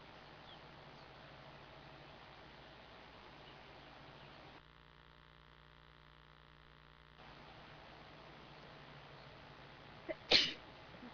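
A single sharp human sneeze bursts out near the end after a long stretch of quiet, hum-filled room tone.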